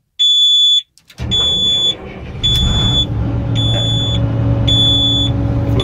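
A New Holland 8055 tractor converted to a TC57 Hydro starts up with its exhaust pipe open while its horn beeps in short, regular, shrill pulses about once a second over the loud, close engine rumble.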